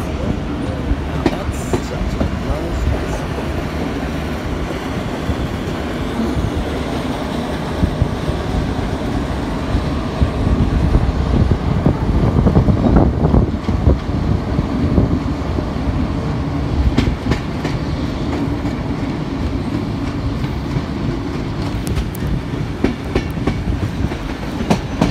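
R761 and K190 locomotives haul a tour train on the run to Geelong. A loud, steady rumble of wheels on rail with rhythmic clickety-clack continues throughout, close by, with no break.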